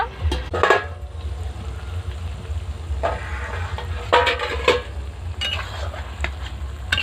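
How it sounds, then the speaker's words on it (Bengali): Snakehead fish pieces cooking in spice paste in a covered pan, a steady low sizzle and bubbling with a few brief clatters of stirring, close and alone with no talk. "শোল মাছগুলোকে মশলার সাথে প্রায় 5-6 মিনিট ধরে ঢাকা দিয়ে ভালো করে কষে নিয়েছি"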